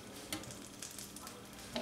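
Bologna slices sizzle in a frying pan with a steady hiss while a spatula scrapes and turns them, giving a couple of brief scraping knocks over the frying.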